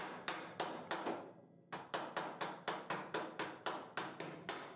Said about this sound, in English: Some places just required a few taps, whilst others required a bit more convincing.